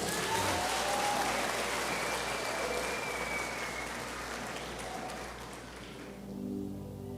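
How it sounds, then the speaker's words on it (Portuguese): A church congregation stands and claps in a dense, sustained round of applause that fills the room like rain, gradually thinning toward the end, with no talking over it. "Fica de pé e dá um aplauso ao Senhor."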